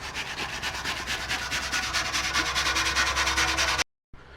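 Old Castrol and Essolube automobilia oil cans are rubbed down with a rag, making loud, close, rhythmic back-and-forth scrubbing strokes that stop abruptly near the end.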